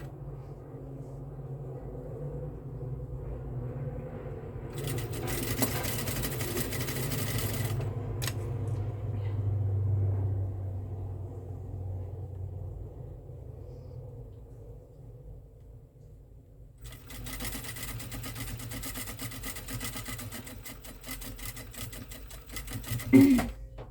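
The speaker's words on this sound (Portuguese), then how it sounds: "Às vezes a máquina demora pra pegar o ponto. Porque ela é meio grosso ali." A sewing machine stitches through thick fabric, running in a steady mechanical whir with a faster, brighter burst near the start, a pause, then another sustained run, with a sharp clack at the end.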